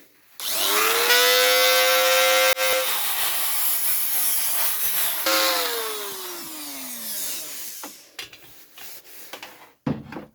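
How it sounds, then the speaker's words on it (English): A Dremel rotary tool cuts into the door hinge pin of an Escort Mk1 car, giving a loud, sustained high whine that drops in pitch under load, then fades into a few clinks and knocks. "get the Dremel on the job. See if we can get a cut in there and get it moving."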